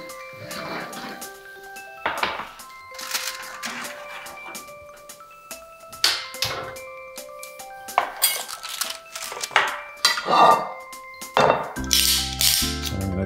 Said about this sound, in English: we're gonna just take these out of the oven right now and plate them up